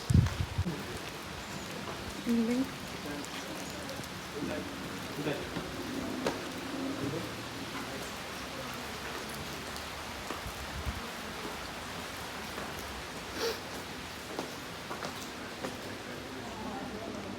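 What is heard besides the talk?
heavy rain falling at a resort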